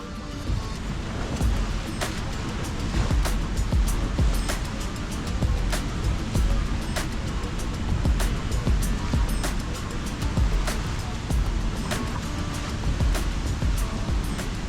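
At Rhine Falls in Switzerland, Europe's largest waterfall, a loud continuous roar of rushing water fills the air with broadband rumble and wind buffeting, steady throughout, with no voices.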